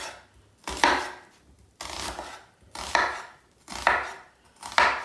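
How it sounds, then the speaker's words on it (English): A knife cuts slits down an onion on a cutting board, five rhythmic close strokes, each a scraping slice ending in a solid tap. "To cut this onion, I'm first going to cut slits down it"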